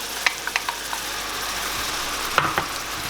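Cream poured into a hot pan of bacon and zucchini noodles, giving a steady close sizzle with a few soft clicks and scrapes of a utensil, without speech.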